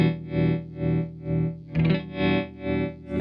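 Electric guitar through a Red Witch Pentavocal Tremolo pedal, a sustained distorted chord swelling and fading in a steady pulse about five times, with a brief strummed attack midway, loud and alone.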